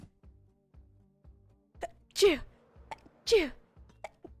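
Two sharp sneezes burst out about a second apart, close to the mic, amid soft tapping and faint background sounds during a live Minecraft stream.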